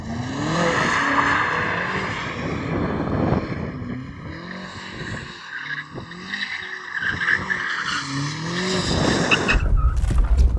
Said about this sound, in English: shall we warm up our tyres?